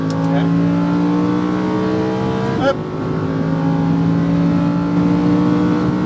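Lamborghini Huracán at full throttle on a race track in Las Vegas, its engine note holding a loud, steady roar before a quick gear-change blip and a renewed climb, with an instructor's voice over it.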